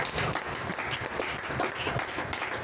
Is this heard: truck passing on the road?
no